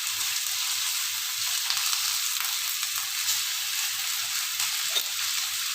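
Milkfish sautéing in a pan gives a steady, close sizzle and crackle with light stirring noises, no voices.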